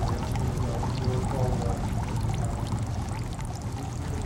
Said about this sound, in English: we pour the water down the stem so that the handle is clean for the next